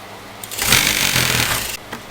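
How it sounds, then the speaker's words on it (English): A sewing machine runs a single continuous burst of top stitching along a folded unselvaged fabric edge, fairly close and steady, starting and stopping within about a second and a half with no talking. "Just put a top stitch on this unsalvaged edge by folding that in so that it will be trapped in and you can sew it easy"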